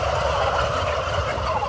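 A flock of turkeys on a turkey farm gobbles continuously, a dense overlapping chorus of birds close by with no pauses.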